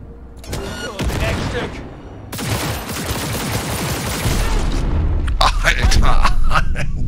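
Bursts of gunfire and booming shots from the video game Cyberpunk 2077 come in loud, rapid volleys, with someone talking over the shooting.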